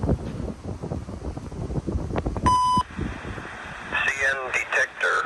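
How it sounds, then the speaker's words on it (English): On a CN line at mile 31, a trackside defect detector gives a short electronic beep over wind noise, then a synthetic voice begins reading out its announcement. "we're going to hear the defect detector on mile 31"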